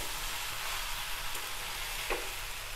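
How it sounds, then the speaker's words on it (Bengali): A spice mixture with sugar fries in a pan under steady stirring, giving a soft, even sizzle with a couple of brief scraping strokes, faint and close. "অল্প পরিমাণ মতো চিনি দেব, ভালো করে নাড়াচাড়া করে মাখিয়ে নেব।"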